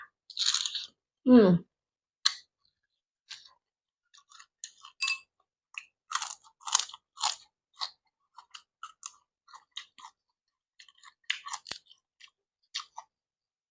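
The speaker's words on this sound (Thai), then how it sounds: "กัดเลยจ้ะ" Close, crisp crunches and bites come at an irregular pace as someone chews sweet-fleshed mole crab served with seafood dipping sauce, with a brief murmured voice early on.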